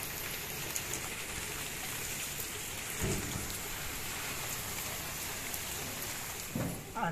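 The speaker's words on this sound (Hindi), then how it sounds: "तो रात की बारिश अभी तक भी बरस रही है" Steady nighttime rain pattering on surfaces outdoors, a soft continuous hiss of drops with a couple of brief louder splashes, no voices over it.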